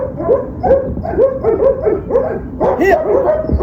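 A dog in the middle of an obedience training session barks and yips excitedly in a quick repeated rhythm, loud and close, with a few higher whiny notes near the end.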